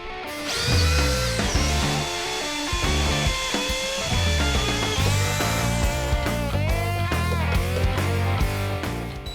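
A DeWalt power drill with a 1/2-inch bit runs steadily for several seconds, its motor whining and bogging slightly under load as it bores through a 4x4 wooden post, close and loud.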